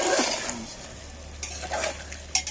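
Mutton pieces for curry are stir-fried in a pan, with a close, continuous sizzle and scraping of a spoon, and a few brighter clatters of the utensil against the pan.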